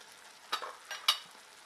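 Chicken for a dry bhuna fries in a pan as turmeric, red chilli, coriander and cumin powders are stirred in, giving a soft steady sizzle with a few brief scraping stirs close by.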